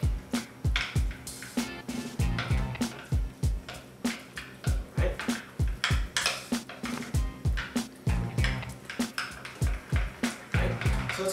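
Chocolate spread and cream stirred together in a bowl for tortilla dessert crepes: a steady run of soft, wet, squishy taps and scrapes repeating quickly for several seconds, fairly close and clear.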